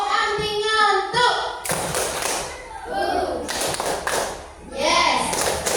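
Schoolchildren in a classroom do a rhythmic tepuk clapping ice-breaker, their chanted voices alternating with sharp, patterned bursts of hand claps close by.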